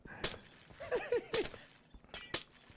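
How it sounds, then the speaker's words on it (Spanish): Glass panes shatter in the video game Minecraft, several sharp crashes spread across the moment with small tinkling clinks between them, fairly loud and without talk. "Le rompes los cristales"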